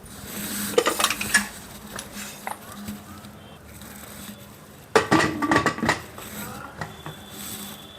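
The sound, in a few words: closing the lid of a pressure cooker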